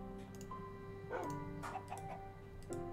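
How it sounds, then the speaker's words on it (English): A dog barks a few times in a Minecraft game, short sharp yips spread across the clip over a steady background tone and game noises. "I just heard a dog."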